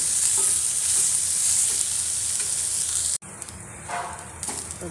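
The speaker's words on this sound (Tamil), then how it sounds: "தேங்காய் நல்லா வணங்கணும்" Grated coconut sizzles steadily in a hot pan while being stirred, a loud continuous frying hiss broken by a brief cut and then quieter scraping of the spoon.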